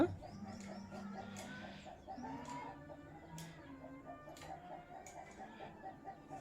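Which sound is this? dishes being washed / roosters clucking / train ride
roosters clucking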